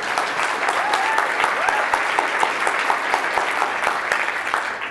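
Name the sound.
audience applause for the speakers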